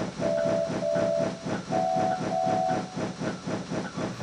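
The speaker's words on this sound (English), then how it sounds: "Soon, Donald and Douglas were turned around and coupled to the train." A steam train setting off, chuffing in a steady rhythm with hissing steam, while a whistle sounds in several short blasts.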